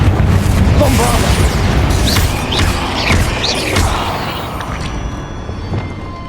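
The Bombarda spell detonates in Hogwarts Legacy on Xbox Series X with a loud booming blast and crashing debris. The rumble then fades over several seconds as voices talk over it.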